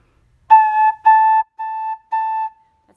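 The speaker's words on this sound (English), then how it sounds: "That's a technique called tonguing" A beginner's flute plays four separately tongued notes on one pitch, each with a crisp clean attack and short gaps between, loud and close with no voice.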